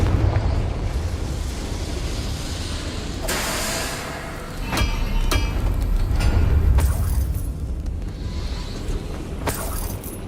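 A fire spell going off in Hogwarts Legacy gameplay: a loud, rumbling explosive burst, followed by several sharper bangs and crackles over a continuous low roar lasting about ten seconds, with no talk.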